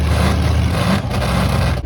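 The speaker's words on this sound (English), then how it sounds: "you can hear some monster trucks in the background" Monster trucks rumble in the background with a low, continuous engine drone that stays steady and fairly loud throughout the short stretch.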